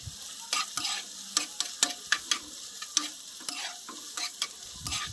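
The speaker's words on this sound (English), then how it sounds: "our onions are now cooking nicely" Onions frying in a pan for a leftover ugali brunch, a close steady sizzle broken by repeated sharp clicks and scrapes of stirring.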